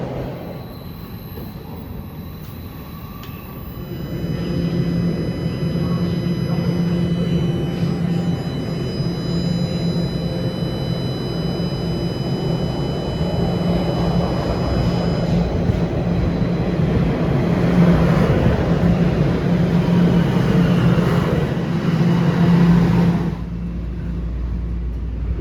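A GO Train arriving at Mount Pleasant station in Canada, a low rumble that swells after a few seconds and holds steady for a long stretch with rail hiss and clatter, then eases near the end.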